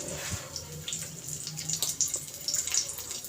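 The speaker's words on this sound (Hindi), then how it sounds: "हाथों की मदद से ये देखें पानी सारा निकाल लेना है।" Wet squelching and trickling as water is squeezed by hand from grated cucumber, close up, with dripping and splashing in short uneven bursts.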